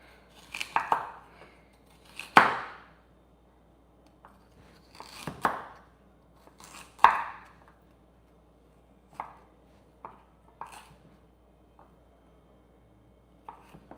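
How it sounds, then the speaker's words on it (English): Rinsed carrots being cut with a knife on a cutting board, a series of distinct chopping thuds at irregular intervals, close and clear with quiet pauses between strokes. "I have some carrots here. I rinsed them already. We're gonna cut these."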